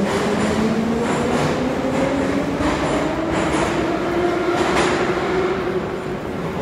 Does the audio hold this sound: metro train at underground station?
yes